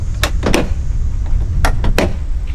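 An aluminum Impact dog crate door, strapped down in the bed of a 2017 Honda Pioneer 1000 UTV, is swung shut and latched, making several sharp metallic clanks and rattles close by over a low engine idle.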